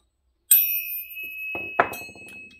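A bright bell ding rings out alone as a subscribe-reminder sound effect and its tone lingers. A short clatter of softer sounds follows.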